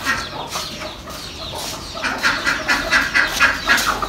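Birds coo and flutter close by, a busy overlapping chorus of soft throaty calls that grows louder and more rhythmic toward the end.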